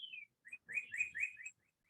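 Birds chirp and whistle outdoors, a quiet run of short, bright tweets, a few clustered calls followed by a brief burst of quick chirps, with no voices.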